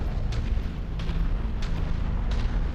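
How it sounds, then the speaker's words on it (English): Heavy weapons fire in the mech combat video game MechWarrior 5, with repeated booming shots at a steady rhythm over a constant low rumble of battle. "Somebody's taking a shot at Reg."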